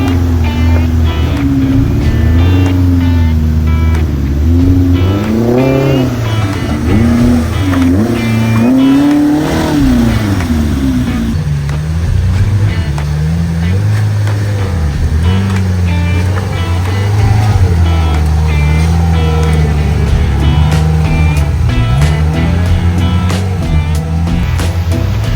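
An off-road vehicle engine drones loudly and continuously while climbing a flooded creek trail at Black Mountain, Kentucky, its pitch rising and falling with revs, with water sloshing under the tyres throughout.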